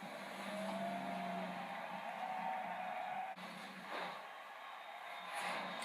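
An off-road racing car in the Forza video game drives at speed, engine droning steadily with whining tones in the mix and a brief swoosh partway through, heard at a moderate, constant level.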